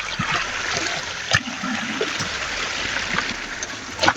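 Water pours and splashes from a toilet flush control in a steady, close trickling gush, with a few sharp clunks and knocks over it and no talking.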